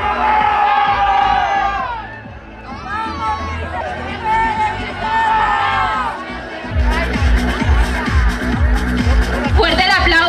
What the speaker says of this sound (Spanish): Fuerte el aplauso para la acreedora del tercer lugar